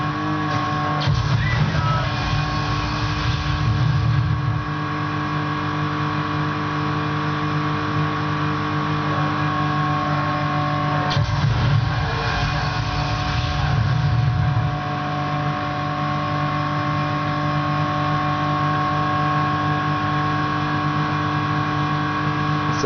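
A racing car engine in the video game Midnight Club LA holds a steady high-revving drone near redline, with brief surges and shifts in pitch, continuous and loud throughout with no talk.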